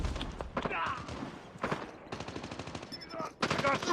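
Gunfire in the mobile shooter Call of Duty Mobile, with bursts of rapid shots sounding in repeated clusters through the clip, mixed with game voice callouts and other in-game effects.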